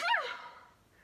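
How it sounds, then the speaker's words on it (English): A single sharp sneeze, close and moderately loud, with a bright burst at the start that fades into a soft breathy tail within a second, heard alone with no talking. "I'm gonna sneeze, I think."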